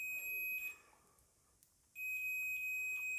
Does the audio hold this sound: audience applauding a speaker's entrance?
no